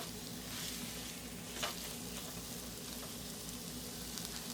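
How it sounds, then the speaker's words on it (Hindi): All-purpose flour frying in a pan on a medium-high flame, a faint, even hiss running throughout with one small clink midway. "मैदे को अच्छी तरह से फ्राई करें"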